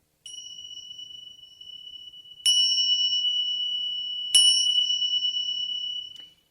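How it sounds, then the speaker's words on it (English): Small Tibetan tingsha bells give a few clear, high metallic rings, each struck sharply and left to ring out in a long shimmering sustain, in quiet surroundings. "Those are Tibetan singing bells. They're called tingsha bells."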